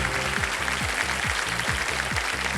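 Steady crowd applause fills a game show studio at KBC, a dense wash of clapping under a rhythmic low musical pulse, with no talk over it.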